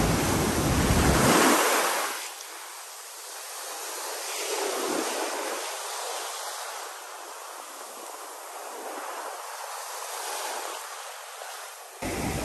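Sea waves at a beach under a hot midday sun, a continuous broad wash of surf with gentle swells rising and falling, heavy wind buffeting at the start and end.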